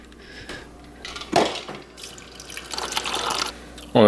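Kitchen tap running briefly to add a little water for a protein shake, a short gush of water with splashes and a small clatter, fairly faint and close, no talking.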